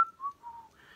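Someone whistles a brief, wavering tune at the close of a cover song, a lone clear whistle lasting about a second with no other sound around it.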